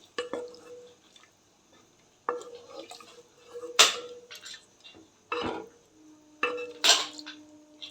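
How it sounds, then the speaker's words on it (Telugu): A spoon stirs milk heating in a pot for payasam. It makes intermittent clinks and scrapes against the metal, with wet squishing and bubbling between the strokes. "కలుపుతూ ఉడికించుకోవాలి దీన్ని."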